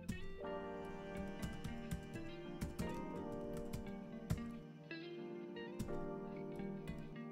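Typing on a computer keyboard at a command-line console, a steady run of close, crisp key clicks with irregular rhythm and a few louder strikes, heard alone.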